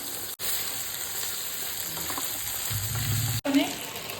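Onion and capsicum stir-fry with soy sauce, tomato ketchup and chilli sauce for paneer chilli, giving a steady, close sizzle broken by two brief gaps and some soft stirring noises.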